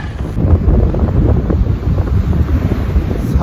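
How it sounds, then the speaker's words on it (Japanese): Cold wind gusts steadily across an empty outdoor spot, a loud continuous low rumble buffeting the microphone throughout with no talking. "結構こちら風が冷たいです"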